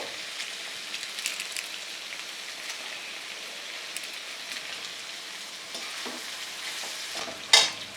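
Onion frying in oil with cinnamon, bay leaves and chillies for a hotel-style paneer gravy, giving a steady close sizzle with soft stirring scrapes and a sharper clatter near the end, no voices.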